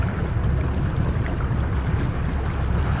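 A twin-engine boat cruises in toward the dock, its engines a steady low rumble mixed with rushing wind and water noise, loud and continuous without a break.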